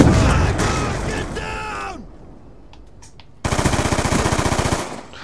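Rapid gunfire from an online shooter game while aiming for a headshot with pistols: a dense volley of shots, then a short quiet gap, then another loud, fast burst of regular, evenly spaced cracks.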